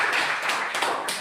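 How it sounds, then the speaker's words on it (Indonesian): Applause from a classroom audience, a brief burst of many hands clapping together in a steady, bright patter at close range. "Kasih aplaus lagi."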